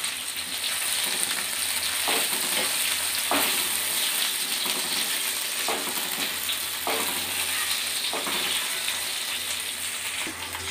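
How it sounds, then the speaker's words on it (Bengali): Bay leaf, a dried chili, nigella and cumin sizzle steadily in hot oil for a Bengali pabda fish mustard curry, with a continuous close frying hiss and occasional stir scrapes throughout. "ফড়ন দেওয়ার জন্য নিয়েছি তেজপাতা শুকনো লঙ্কা একটা আর কালো জিরে আর জিরে আমি এতে ফড়ন দিয়ে দিলাম"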